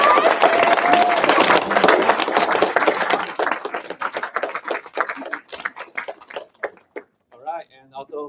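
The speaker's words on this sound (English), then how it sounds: "Let's give another round of applause to our amazing alumni." Audience applause for alumni at a university autonomous driving camp presentation, a dense burst of clapping that thins into scattered individual claps and fades as a voice begins speaking at the end.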